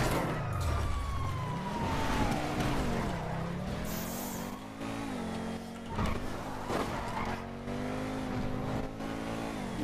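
A siren wails and sweeps in pitch over a steady car engine roar as two police cars chase a car in GTA5, with a helicopter joining the pursuit. It plays continuously and loudly throughout, with no speech.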